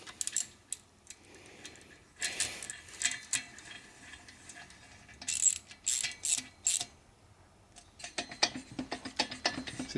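A hand ratchet clicks in quick bursts while tightening head bolts on a 1941 Harley WL flathead 45 stroker engine, close and crisp, with pauses between strokes and no talk.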